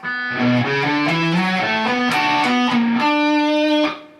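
Distorted electric guitar plays a solo, a loud, sustained lead line of shifting bent notes with rich overtones over steady backing, ringing out alone before cutting off near the end.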